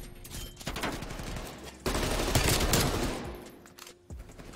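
Rapid bursts of FFAR rifle fire from Call of Duty Cold War crackle in two close, loud volleys separated by a brief pause, with no talk over them.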